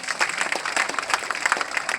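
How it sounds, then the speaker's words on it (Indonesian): Audience clapping for an Indonesian environment minister at a ministerial handover ceremony in Jakarta, a short, moderately loud patter of many hands in an indoor hall. "Tepuk tangan untuk beliau."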